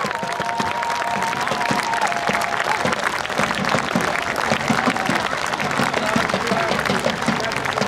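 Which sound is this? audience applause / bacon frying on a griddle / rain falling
audience applause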